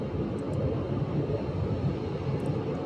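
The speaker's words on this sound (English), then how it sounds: "We actually have two Southwest arrivals now." A Southwest Boeing 737 MAX 8 airliner arriving at Phoenix, heard as a steady, broad low rumble of jet engines, distant and continuous, with no talking over it.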